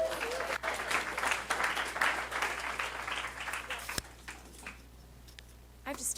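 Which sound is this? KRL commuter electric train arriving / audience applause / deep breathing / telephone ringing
audience applause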